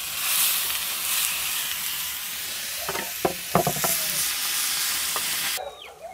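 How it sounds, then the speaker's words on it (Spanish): Tomato frying in hot oil in a pan, a steady bright sizzle throughout with a few louder bursts and spatters midway as it is stirred, ending abruptly. "Se le voy a fritar el tomate"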